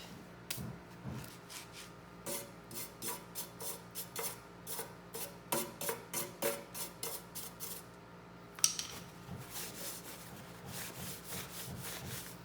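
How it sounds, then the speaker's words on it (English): A brush scrubs dirt off the metal hitch of a Toro lawn tractor, giving soft, rhythmic back-and-forth scraping strokes at a steady pace, close but quiet, with one sharper clink partway through. "And then I think I'm going to brush off the dirt."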